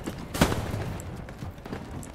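Gunfire from a machine gun in the World War II shooter Hell Let Loose, with a loud burst near the start and then a steady chatter of shots and battle noise continuing under a faint voice.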